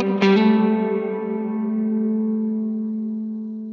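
An electric guitar sounds through a Line 6 Helix dynamic plate reverb set with its high end rolled fully down. A single strummed chord rings out alone into a long, dark, dulled reverb tail that fades slowly.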